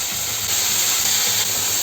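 Tofu frying in hot coconut oil in a pan, a continuous close, loud sizzling hiss with faint crackle that holds steady throughout.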